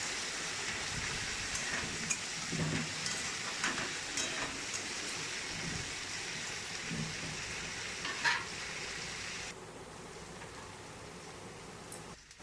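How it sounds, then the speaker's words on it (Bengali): Hilsa fish head being fried and stirred with ridge gourd, potato and onion in a home Bengali kitchen, a steady close sizzle with scraping stirs and light clinks throughout, quieter toward the end. "ভাজা হয়ে গেছে, এবার দিয়ে দিচ্ছি ভেজে রাখা ইলিশ মাছের মুড়ো।"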